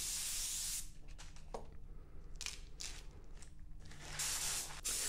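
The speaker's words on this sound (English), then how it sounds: "Now I'm coming in with pearl silver, and I'm shooting the pearl silver over my base coat sealer gray mix." A spray gun lays pearl silver paint over a base coat sealer gray mix in steady hissing bursts, loud at the start and end with quieter gaps in between, and no talking.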